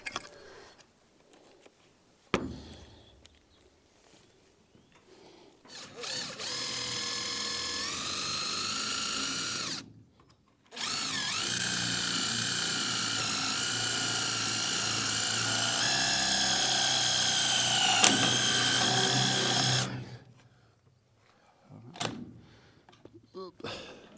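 A power drill whines at high pitch for several seconds as it drives self-tapping screws into garage siding, stops briefly, then runs again for about ten seconds. Handling knocks come before and after it, and the drilling is close and loud.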